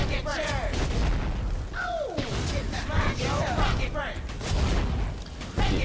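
Agni's bomb ability exploding in Smite, heavy booming blasts that repeat over a constant din of game effects, with whooshing swooshes and crackling impacts running close and loud throughout.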